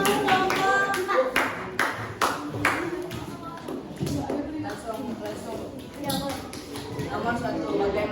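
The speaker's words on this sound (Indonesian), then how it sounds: "Oke, tepuk tangan untuk kelompok 3. Tepuk tangan untuk kelompok" Children in an Indonesian classroom guidance session applaud for a group, a dense burst of many hands clapping that rises and tapers, with an adult voice and other voices talking over the room.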